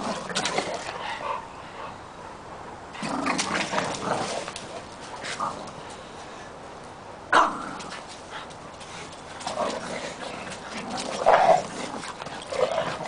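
Pug, Pekingese and Shih Tzu rescue dogs bark and yelp in short bursts with whimpers in between, sounding close and playful as they meet a puppy, with quiet stretches between the outbursts.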